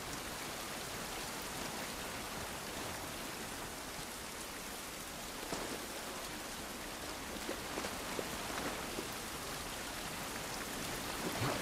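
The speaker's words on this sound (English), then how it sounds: "Rain ain't gonna do us any good." Rain falls outdoors in The Last of Us Part 1 video game, a steady, even hiss of drops that continues throughout with no voices.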